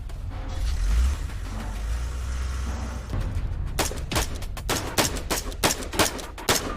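Gunfire in a film shootout: after a low rumbling lead-in, a rapid series of sharp, loud shots rings out in irregular bursts, with no talk.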